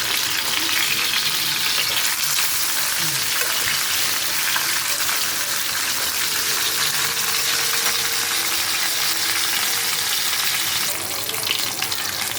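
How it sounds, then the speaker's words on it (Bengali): Fish pieces fry in hot oil in a pan, giving a loud, dense, unbroken sizzle that carries on throughout. "এখন আমি উল্টে দেবো মাছগুলো আস্তে করে"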